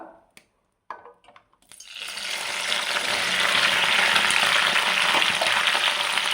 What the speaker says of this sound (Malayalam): അപ്പോൾ ചൂടായ വെളിച്ചെണ്ണയിലേക്ക് വെണ്ടക്ക കഷ്ണങ്ങളെല്ലാം ഇട്ട് കൊടുത്തു